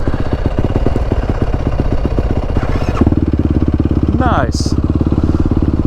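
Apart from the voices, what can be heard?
motorcycle engine running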